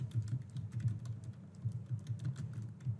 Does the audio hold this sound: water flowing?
no